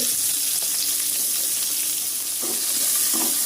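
Curry leaves, green chilies and onion sizzling in hot oil, a loud steady frying hiss that fills the whole moment, with a few brief stirring clinks near the end.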